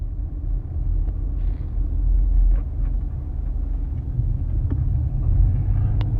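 A delivery driver's car rolls up to a Staples warehouse, heard from inside as a steady low engine and road rumble with no talking.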